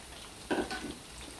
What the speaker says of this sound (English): We're going to be frying our onions and our ground beef that were made into balls.